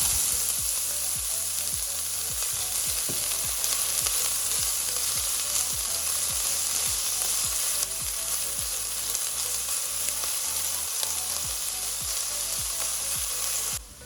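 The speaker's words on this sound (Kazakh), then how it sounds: "Енді қызып тұрған осындай темір табамызға 2 ас қасық сұйық майымызды құйып, бірінші пиязымызды қуырып аламыз" Onions fry in two tablespoons of oil in a hot iron pan, a loud, steady sizzle running throughout, with regular scraping stir strokes against the metal and no voices.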